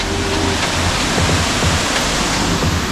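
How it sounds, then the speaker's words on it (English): A big waterfall at Cueva Ventana pours in a loud, steady roar of broadband rushing water that fills the whole stretch without a break, close and alone with no voices. "Found this big ass waterfall."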